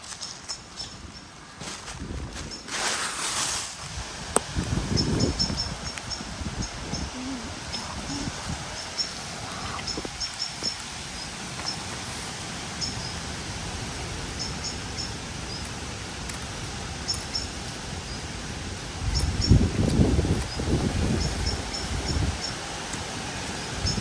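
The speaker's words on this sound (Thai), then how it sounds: "ลมแรงมากเลย" Strong wind rustles the leaves of a forest during mushroom gathering, a steady wash of noise with louder gusts swelling and fading.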